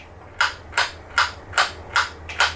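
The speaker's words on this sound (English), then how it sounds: "If you haven't listened to how solid the trigger click is" Trigger on a Milwaukee cordless planer clicking six times at an even pace, sharp solid snaps up close with quiet room noise between.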